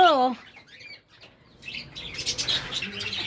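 Pet cockatiels flap their wings in a soft, fluttery burst of rustling near a cage, with a few faint chirps mixed in; a brief voice is heard at the start.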